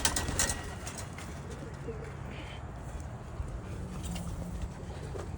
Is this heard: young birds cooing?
yes